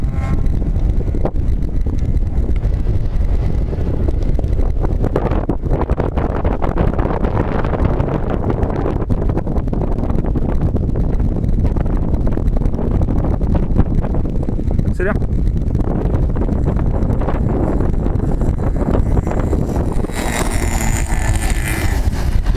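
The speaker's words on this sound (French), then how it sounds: "Oh bah t'as vu le vent ?" Strong wind roars and buffets the microphone outdoors, a constant rumbling gust with a drone's motor hum underneath and a voice speaking briefly.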